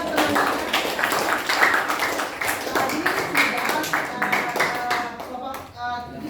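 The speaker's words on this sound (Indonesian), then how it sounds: "Tepuk tangan untuk teman-teman." Classmates clap for a school group presentation in a classroom, a dense patter of hands running through the whole stretch while a voice talks over it.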